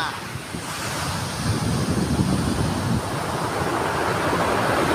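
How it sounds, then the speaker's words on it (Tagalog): Big ocean waves crash and surge continuously at Dipaculao, close and loud, with heavy wind buffeting the microphone throughout. "Taas ang alon."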